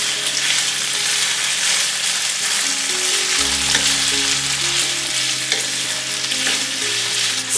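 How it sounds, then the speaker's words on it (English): Flour-coated beef stir-frying in a pan for Chinese-style borscht, a loud continuous sizzle with stirring scrapes throughout and a low hum underneath, no voices. "Stir fry the beef around 5 minutes until the beef color change, caramelized, and the beef is done."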